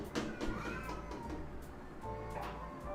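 Cats yowling on a roof during mating season: drawn-out, wavering caterwauls rising and falling over a steady low background hum, moderately distant.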